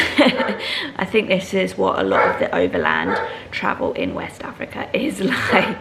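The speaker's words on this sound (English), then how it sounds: "sorry about the dog barking" A dog barks nearby during a hectic overland travel day on public transport in Senegal, with short yips and barks mixed under continuous talk from a person speaking close to the microphone.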